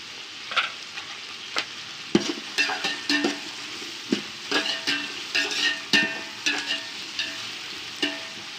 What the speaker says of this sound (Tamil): வெங்காயம் நல்லா கோல்டு ப்ரௌன் ஆகிற வரைக்கும் நல்லா வணக்கி விட்டுக்கலாம்.